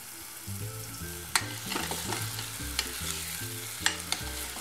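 Tomatoes frying and sizzling in a pan, cooked down as preserves, a steady hiss with soft stirring scrapes and a few sharp pops, close and fairly quiet, no voices.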